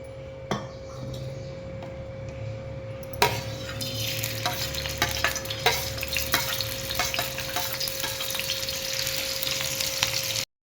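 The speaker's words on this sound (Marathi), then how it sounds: "ह्याच्यात थोडं तेल टाकूया आणि कांदा भाजून घेऊया" Chopped onion fries in a little oil for a brinjal curry, a continuous hiss broken by several spoon clinks and scrapes against the pan, with no voice.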